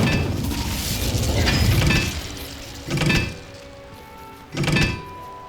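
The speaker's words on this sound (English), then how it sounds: "Incendio!" Fire spell cast in the Hogwarts Legacy video game: a loud burst of crackling, whooshing noise, then two shorter flaring bursts, all with no talk.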